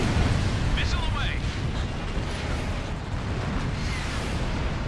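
A missile launching in a flight combat video game, a loud sustained roaring rush of rocket exhaust that fills the whole stretch with dense low rumble, while a voice talks over it.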